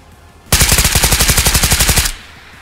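Automatic gunfire in the shooter game Ghosts of Tabor: one loud, close burst of about twenty rapid, evenly spaced rounds lasting around a second and a half, then a sudden stop.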